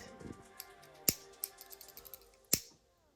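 Sharp metal scissors cut ribbon for a hair bow: two crisp, close snips about a second and a half apart, with small blade clicks and handling ticks between them in an otherwise quiet room.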